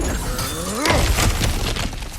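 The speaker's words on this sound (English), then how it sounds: "Ah, back to smashing through things for fun and profit." Heavy objects smash apart during combat in the video game God of War Ragnarok, with a loud shattering crash near the middle followed by scattered breaking debris over a busy game soundscape.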